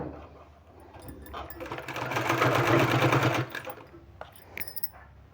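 A sewing machine stitching a long folded fabric strip, a close, dense mechanical whir that swells to a steady run for a couple of seconds, then stops into light handling clicks.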